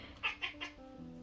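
Mélu the cat gives three quick, faint meows in a row, distant and soft, with no voices.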